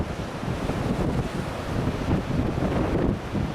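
Ocean surf crashing against a rock along the shore, a constant loud broadband roar of waves mixed with heavy wind buffeting the microphone.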